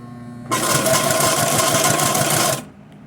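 A sewing machine stitches leather cording in one steady, loud, fast run of about two seconds, starting abruptly and stopping just as suddenly, with a quiet motor hum left afterward.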